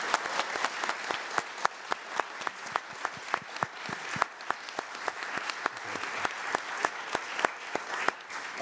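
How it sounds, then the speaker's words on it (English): A small audience claps for a panel at the close of a discussion about a lawsuit against the Dutch state: steady, fairly sparse and quiet applause with individual claps distinctly audible throughout. "Can we give them all a round of applause?"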